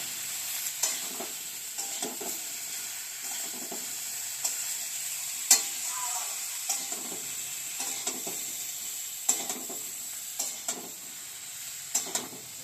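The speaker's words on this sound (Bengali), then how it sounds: "এবার একটু বেগুনটা একটু ভাজা ভাজা হবে।" Eggplant frying in a mustard sauce with a sprinkle of poppy seeds, a close continuous sizzle punctuated by regular scraping stirs of a spatula against the pan, with no talking.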